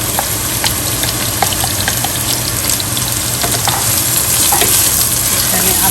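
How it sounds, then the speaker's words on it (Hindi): Onion sizzles steadily in hot oil in a pan for a bheja fry dish, a loud, close, continuous frying hiss with occasional stirring clicks and no talking. "ये देखिए, इसमें डाला ऑयल डाला, और देखें अब गर्म हो गया तो इसमें प्याज ऐड कर देती हूँ।"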